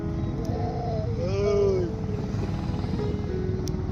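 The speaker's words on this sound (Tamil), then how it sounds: "அங்கே தூரமாக வந்து பார்த்திங்கன்னா வந்து ஹெலிகாப்டர் வந்து வந்துட்டுருக்கு" A rescue helicopter drones steadily over a sandy Norfolk beach during a lifeboat drill, a continuous engine rumble with a rising, sweeping tone midway and wind buffeting the microphone, no talking.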